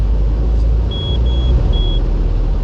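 Fiat Ulysse with a 2.0 JTD diesel engine running on a dynamometer in fourth gear of five, a loud, steady low rumble with brief faint beeps partway through.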